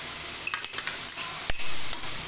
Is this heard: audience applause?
no